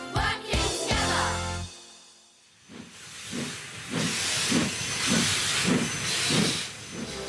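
Cartoon steam locomotive on a branch line, opening with a sharp hiss of steam, then rhythmic chuffing that settles into a steady, evenly spaced beat.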